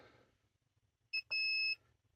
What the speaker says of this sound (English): Reverse it again, you get a brief beep.